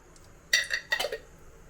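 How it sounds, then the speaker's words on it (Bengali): Whole cloves crackling and popping in hot oil in a home kitchen, two quick bursts of faint sizzling crackle close by, with brief high clicks before them and quiet between. "ফটফট করে ফাটছে এখানে কি সব এটা লবঙ্গর ফুলটা"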